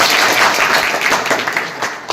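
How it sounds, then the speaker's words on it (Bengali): Applause from a school audience at a prize announcement, a broad steady wash of many hands clapping for just over two seconds, fairly loud and with no talk over it. "হাততালি, জোরে একটা হাততালি"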